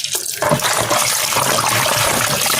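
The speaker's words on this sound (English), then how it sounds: "I'm just rinsing this off because I already washed it with the vinegar or soak it in vinegar." Running tap water pours over a raw turkey being rinsed in a sink, a steady rushing splash that starts after a brief moment and continues close and loud.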